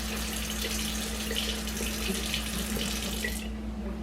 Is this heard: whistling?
no